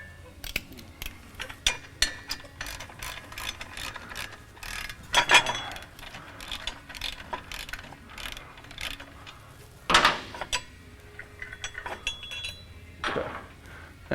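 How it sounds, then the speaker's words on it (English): Ratchet clicking in short bursts while loosening exhaust fasteners under a 2013 Ford F-150 EcoBoost during a cat-back exhaust install, with metallic clinks and a few louder knocks between the runs of clicks, close and unaccompanied by talk. "Go ahead and remove the fasteners"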